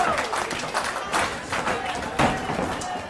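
Wrestling crowd in an indoor arena, clapping in rhythmic bursts with scattered cheers, fairly close and steady throughout, partly under a commentator's voice.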